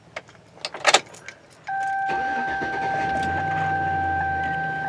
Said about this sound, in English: As you can see, the engine running right now